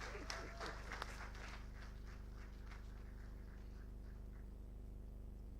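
Crowd applause at a Nigerian Society of Engineers quarterly dinner and fellowship conferment, steady clapping filling the hall for several seconds as the society's president is welcomed, with faint voices mixed in.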